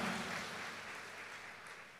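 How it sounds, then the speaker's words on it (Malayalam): An audience applauds award-winning students at a school or college ceremony, a steady wash of clapping filling the hall and slowly fading. "Let us give A big clap."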